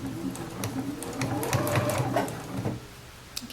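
A domestic sewing machine stitches a shirt seam in a steady, close run of rapid mechanical clatter, with the motor's hum underneath, easing off near the end.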